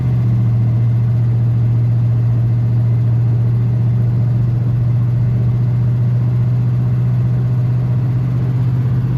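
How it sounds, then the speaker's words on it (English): A 1979 hearse cruises at about 50 mph. It gives a steady, low engine drone with constant road rumble, even and unbroken throughout, and no speech. "We're at about 50 miles an hour now, just cruising."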